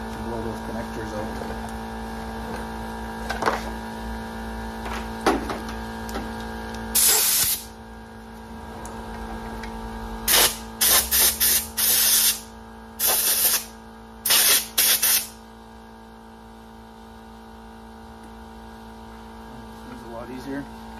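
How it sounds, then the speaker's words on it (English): Compressed air blasts out the connectors of rear parking sensors on a 2013 Mercedes G63, loud hissing bursts (one long, then several short rapid ones) over a constant low electrical hum. "we should have enough air pressure to blow those connectors out"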